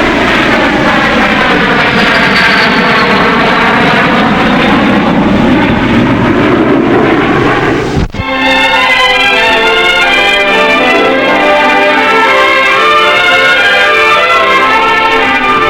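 A North American Aviation airplane's engine roars loud and close in a flyover, with a sweeping drone that shifts pitch, a sharp break midway, then a steady high whine continuing to the end.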